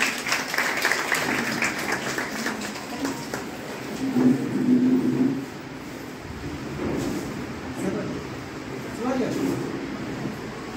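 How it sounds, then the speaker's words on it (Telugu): Audience applause at a free beautician course event fills the room in waves, with clapping throughout and a voice talking over parts of it. "గట్టిగా క్లాప్స్ ఉండాలి"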